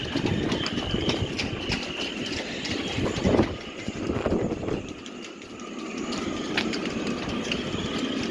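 Blustery wind gusts and buffets at a boatyard marina full of boats for sale and in winter storage, a continuous roaring rush with rattling and occasional faint whistling, close and loud, with no talking.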